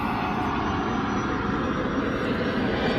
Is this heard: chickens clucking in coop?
no